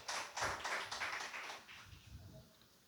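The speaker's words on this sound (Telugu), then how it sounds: "గట్టిగా చప్పట్లు కొడదాం మనమందరం కూడా" A church congregation gathered for Sunday morning worship claps together in a burst of loud, rapid applause that gradually fades out over a few seconds.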